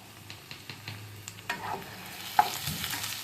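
Onions with ginger-garlic paste frying and being stirred in a pan over raised gas flame, a soft sizzle with light scraping strokes of a spoon, close and fairly quiet.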